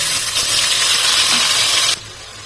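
A spice paste of kalo jeere (black cumin), garlic and green chilli is poured into hot oil for a Bengali amudi fish curry. A loud, steady sizzle and hiss runs for about two seconds, then cuts off sharply.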